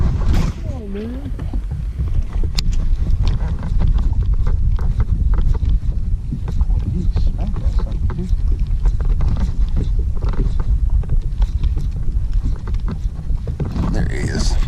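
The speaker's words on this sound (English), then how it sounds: "we're getting a little bit of wind" Steady wind roars across a lake during fall fishing, a loud constant rumble buffeting the microphone, with occasional voices and small knocks underneath.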